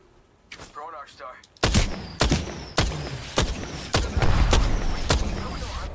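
Video game gunfire: about seven loud, sharp shots at irregular intervals, each cracking over a faint voice that fades early.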